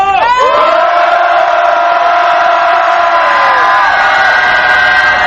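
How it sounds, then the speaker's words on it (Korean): A loud, sustained roar of shouting from a crowd at a protest rally by bereaved Sewol ferry families demanding the ship's salvage, voices swelling together and holding for several seconds before slowly thinning. "힘찬 함성 질러주십시오"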